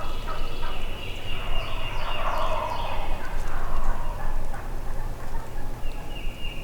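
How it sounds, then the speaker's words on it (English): A flock of wild turkeys gobbles in Mississippi hill country, the calls overlapping in steady bursts at moderate distance against a constant outdoor background, with no one talking. "That's just a freaking flock of turkeys."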